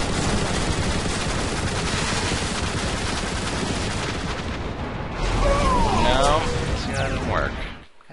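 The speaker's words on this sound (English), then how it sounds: "He's shooting at them. Yeah. You just keep shooting at them." Gunfire in the Transformers: War for Cybertron video game: dense, continuous bursts of shooting with explosions and sci-fi effects, loud throughout, with louder blasts and whooshing effects near the end.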